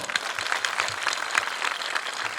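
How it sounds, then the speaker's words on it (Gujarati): An audience at a family community get-together and education ceremony breaks into dense, sustained clapping that fills the hall evenly from start to finish. "તો બધા માટે એકવાર જોરદાર તાળીઓ."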